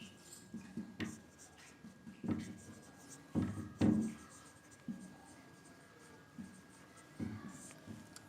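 A pen writing out a Class 10 statistics question on missing frequency, giving soft scratchy strokes in irregular bursts, with a few louder taps and rubs. Nobody speaks.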